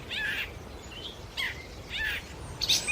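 A grey catbird at Bombay Hook National Wildlife Refuge in Delaware gives five short, bright phrases mimicking other birds, evenly spaced over a quiet background hiss.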